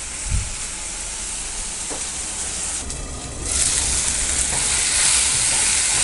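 Tomato, mint and green chilli sauté in oil in a pan for paneer biryani, with a steady close sizzle and occasional stirring scrapes that continue throughout.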